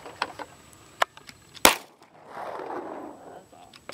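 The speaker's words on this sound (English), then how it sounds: "I hope you weren't shooting at the one up the hill." A single sharp gunshot at clay targets cracks out loud and close amid scattered clicks and outdoor handling noise, followed by a soft rushing sound.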